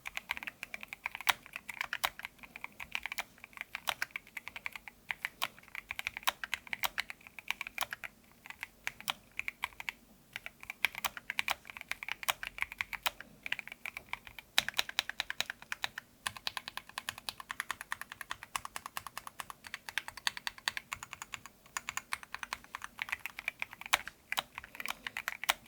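Steady typing on a Keychron Q1 Max, a 75% wireless double-gasket-mounted keyboard with lubed hot-swap Gateron Jupiter red switches, with dense, rapid clacks running continuously and close up, no talking.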